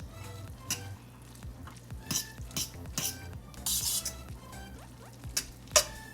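Utensil stirring food in a bowl to coat it with butter, scraping and clinking in irregular strokes at close range with occasional louder taps, against a low steady hum.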